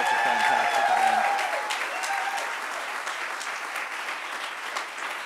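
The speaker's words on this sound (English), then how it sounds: "just a round of applause for our co-chairs, Randy and Aaron, for running such a fantastic event" Banquet audience applauding the co-chairs Randy and Aaron at a camp's 100th celebration, a dense, steady wash of clapping that holds throughout and fades slightly toward the end, with a brief voice at the start.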